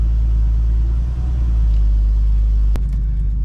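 A turbocharged BMW 733i E23 idles with a steady low rumble, a smooth even engine hum that holds close and constant, broken by one brief sharp click near the end.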